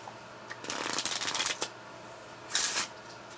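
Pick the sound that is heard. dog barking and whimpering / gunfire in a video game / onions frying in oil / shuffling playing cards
shuffling playing cards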